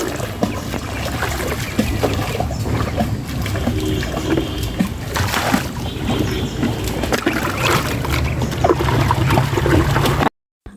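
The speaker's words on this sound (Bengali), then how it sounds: "আমার ভাগ্নি এদিকে সাঁতার কাটা শিখতেছে।" A young girl learning to swim in a pond, continuous close splashing and sloshing water throughout, loud and busy, ending abruptly.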